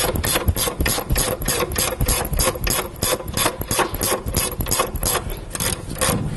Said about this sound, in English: Now with a 16mm socket, there's two bolts at the back of the carrier, so let's get your socket on them.